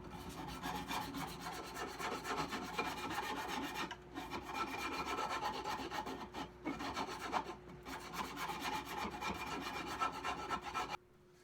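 Steady rasping of a sanding stick rubbing back and forth on wood, continuous and close, with a few brief pauses between strokes.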